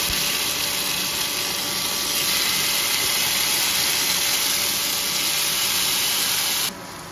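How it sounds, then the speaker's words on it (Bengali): Paneer tikka frying on a tawa gives a steady, loud broadband sizzle that holds for several seconds and then suddenly drops to a quieter hiss near the end. "আমি এখানে পনিরটা সুন্দর করে ভেজে ফেলি, পনির টিক্কাটা"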